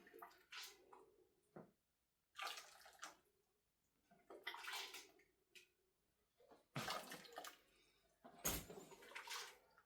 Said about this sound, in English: I am going to put a little bit more water